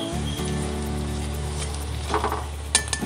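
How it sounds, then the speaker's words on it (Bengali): Bora fritters fry in hot oil with a steady, close bubbling sizzle, constant and moderately loud, with a few small clinks near the end. "আমি বড়াগুলো ভাজছি, এক পিঠ আমার ভাজা হয়ে গেছে"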